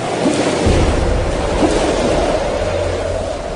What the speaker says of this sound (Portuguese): um vento forte começou a soprar e a levantar as ondas